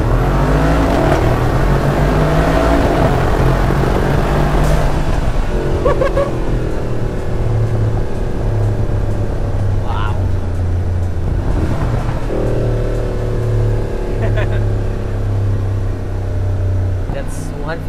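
A Vorsteiner widebody Mercedes-AMG G63 revs and pulls through its gears, its exhaust booming loud and close with rising, falling tones, while a voice briefly exclaims over the engine.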